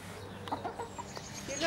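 A pet chicken named Lou makes a few soft, brief clucks indoors, quiet and close, over a low room hum.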